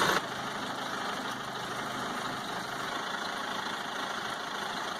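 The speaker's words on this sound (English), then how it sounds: "it's really loud. Backhoes are loud" A backhoe engine runs loud and steady at close range, a continuous low idling drone with no pauses.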